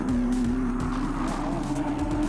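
Race cars roar loudly with a sustained engine drone and tire squeal as one slides and makes contact with another, over about two seconds.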